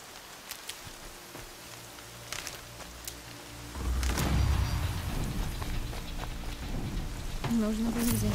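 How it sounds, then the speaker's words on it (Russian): Rain falling in Horizon Zero Dawn, a steady hiss of drops under faint mechanical clicks, joined midway by a louder rumbling wash, with a voice speaking over it. "За шумом дождя ничего не слышно."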